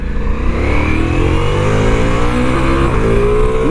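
A 2022 Ducati V4 Multistrada motorcycle's V4 engine revs hard under full acceleration on the road, a loud, close, rising growl that climbs steadily through the gears with wind noise and no speech.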